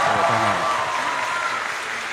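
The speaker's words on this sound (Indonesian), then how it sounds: "Tepuk tangan dulu." An audience applauds, a broad wash of clapping that fades steadily over a couple of seconds, with a few voices audible at the start.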